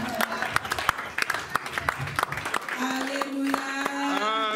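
A church congregation at a December 25 service in Rennes applauding and cheering, with scattered claps that build into a loud, sustained roar of cheers and voices.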